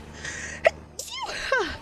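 A single sharp sneeze bursts out close to the microphone, preceded by a quick inhale and followed by a brief vocal sound.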